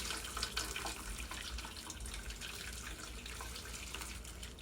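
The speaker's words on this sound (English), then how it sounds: "we're just going to start pouring our boiling water over and letting it drain into the bottom basin" Boiling water pours in a steady, faint splashing stream over sliced red onions in a dorm kitchen and drains into a sink basin below, running continuously without speech.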